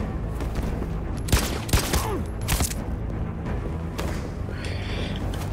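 Gunshots ring out in Detroit: Become Human, a few loud sharp reports in quick succession with a metallic ring trailing off, over a low ambient background.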